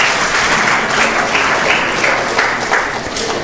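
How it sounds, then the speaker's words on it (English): A crowd claps steadily at a community Sunday feast after a class, a dense, continuous wash of applause held at even loudness throughout, with no voices standing out. "Big round of applause for everyone involved."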